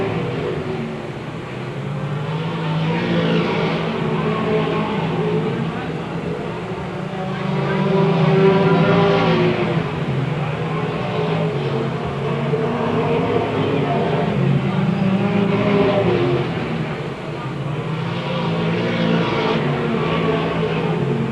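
Race cars circle a short oval track at a 1993 MASCAR feature, their engines droning and swelling as they pass at a middle distance, heard beneath an announcer's continuous commentary.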